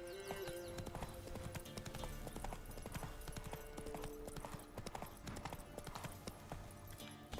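Hooves of Roach, the horse in The Witcher 3, clopping in a quick steady rhythm, soft and a little distant, blended into game music and ambience.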